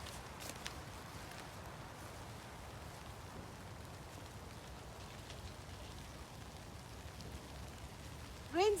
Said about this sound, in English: Rain's getting a bit heavier.